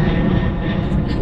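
Steady, loud airplane engine roar inside the cabin during a flight from Egypt to Accra, Ghana, a dense continuous rumble with no breaks throughout.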